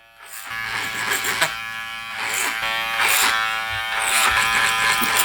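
Electric hair clippers buzzing close up while cutting a men's taper haircut over a comb, with a steady hum and a few strokes through the hair.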